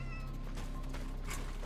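A cat meows within the sci-fi horror video game Cronos The New Dawn, a faint drawn-out call set against a steady low mechanical hum and game ambience, with no talking.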